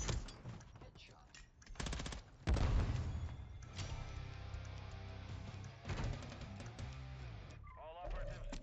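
Gunfire in a Call of Duty Modern Warfare 3 Search and Destroy match: repeated loud bursts of rapid automatic shots and booming blasts, with game voice lines and a player talking between them.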